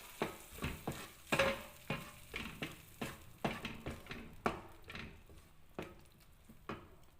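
Tomato and eggs sizzling in a frying pan while being stirred, with a steady run of scraping strokes and crackling fry throughout, close and fairly loud.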